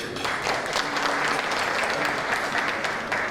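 An audience at a mayor's meeting with press workers on a press freedom day claps in a full, continuous burst. The applause is moderately loud and steady throughout, with no talk over it.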